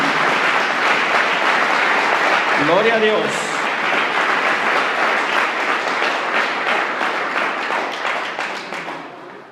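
A church congregation applauding, loud continuous clapping from many people that carries on for several seconds before fading out toward the end, with a brief spoken exclamation early on.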